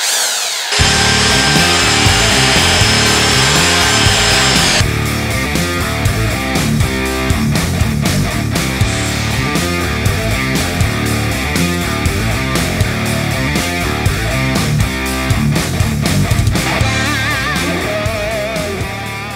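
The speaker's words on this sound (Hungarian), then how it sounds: "Mi jelen esetben egy elektromos csiszolót fogunk használni" An electric sander works over a small wooden box with a continuous, loud, gritty rasp for the whole stretch. Its tone shifts slightly as pressure changes, and no one speaks.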